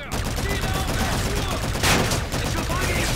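Dense, continuous rapid gunfire from the video game Call of Duty: Infinite Warfare, steady and loud throughout, with a brief louder burst midway.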